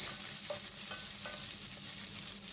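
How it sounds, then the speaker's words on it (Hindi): Half a spoon of ginger garlic paste fries in a pan of lightly browned ingredients for a cluster bean kadhi, a steady soft sizzle broken by a few faint stirring scrapes, with no voices. "उसको चंद सेकंड के लिए अच्छा सा भून लेंगे"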